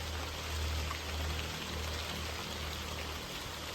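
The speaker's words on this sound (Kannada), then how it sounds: "ಮಳೆ ಬರ್ತಾ ಉಂಟು" Soft, steady rain patters down continuously, fairly quiet, with a low hum underneath and no voices.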